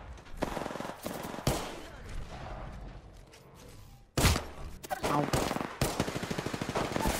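Heavy automatic gunfire from the video game Apex Legends rattles in fast bursts, loud and close, with brief pauses between volleys and a few harder impacts.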